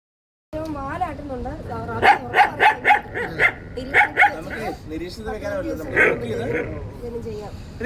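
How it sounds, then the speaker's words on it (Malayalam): A suspected rabid stray dog, caught by an animal rescue team, barks in a rapid series of sharp close barks mixed with whimpers and yips, while people talk nearby. "അംഗങ്ങളായ കീർത്തി ദാസും മഞ്ജു ഓമനയും ചേർന്ന് പിടികൂടിയ നായയെ നിരീക്ഷണത്തിനായി കൂട്ടിലടച്ചു."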